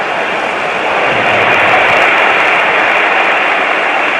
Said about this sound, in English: Just applause for Morgan Gibbs-White.